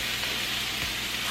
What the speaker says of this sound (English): It should sizzle when you put it on the pan.